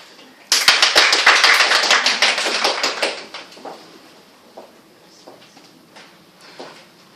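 A small group bursts into clapping at a support-group meeting, loud and close for about two and a half seconds before thinning into scattered claps and quiet.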